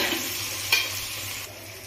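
Lote fish fries in a pan with a little salt, giving a close, steady sizzle with one brief clink of a utensil. The sizzle fades slightly toward the end, and there is no talking.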